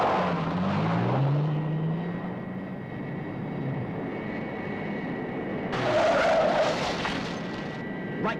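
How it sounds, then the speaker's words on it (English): Thunderbird 1 takes off in a puppet-show sound effect. A descending engine whine opens into a broad, steady jet-like roar, and a sharper, brighter blast surges near the end, all fairly loud with no voices. "As soon as Thunderbird 1 takes off,"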